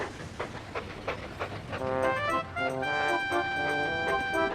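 A cartoon narrow-gauge steam engine puffs away with steady rhythmic chuffs, then a bright tonal whistle-like layer rises over the continuing puffing, fairly close and moderately loud throughout.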